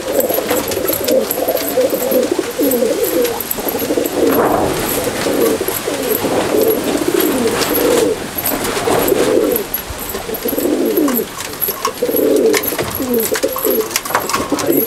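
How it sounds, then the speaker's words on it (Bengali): Loft pigeons, a released pair of cock and hen in Falta, South 24 Parganas, cooing in a steady run of throaty, rolling calls with brief pauses, close and loud, with no voices. "ছেড়ে দেখাচ্ছি পায়রা দুটো খোপের মধ্যে"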